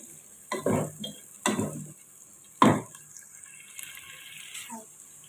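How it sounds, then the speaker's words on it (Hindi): Cut potatoes are tossed into onions frying in a pan for an aloo choliya dish, making three distinct bursts of stirring and clattering followed by a quieter, lingering sizzle. "ताकि आलू भी जो है वो थोड़े से इसके साथ ही प्याज के फ्राई हो जाए"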